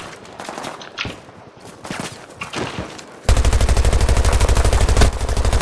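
Rapid automatic gunfire from a weapon in Battlefield 2042, a loud sustained burst in the second half after quieter game noise and scattered distant shots.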